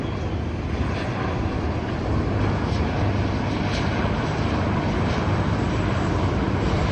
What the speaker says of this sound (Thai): นี่น่าจะเป็นเฮลิคอปเตอร์ตำรวจ